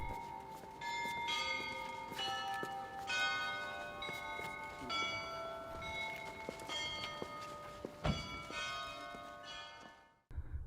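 Church bells ring out at a funeral outside St. Michael's Golden-Domed Cathedral in Kyiv, loud overlapping peals in a steady rhythm, with faint footsteps beneath, fading away at the end.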